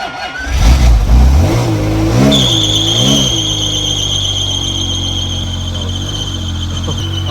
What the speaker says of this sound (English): It sounded like slipping belt.